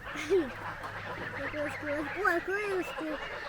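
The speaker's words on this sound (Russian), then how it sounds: "Последние утки идут." Ducks quacking and honking in a loose series of calls, close by, over faint background noise.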